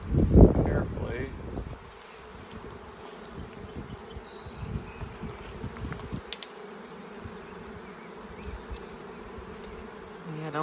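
A bee swarm hums continuously during a swarm catch, a thick steady buzz close by after a loud burst of handling noise at the start, with scattered knocks and clicks throughout.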